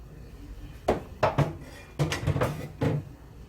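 Pork curry with potatoes stirred in a pot, giving a handful of short scraping, knocking spoon-against-pot sounds in quick irregular bursts, close and fairly clear with no talking.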